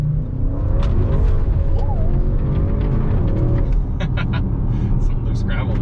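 A 2021 Audi RS6 Avant's engine gives a deep, steady purring rumble from inside the car while people talk over it throughout.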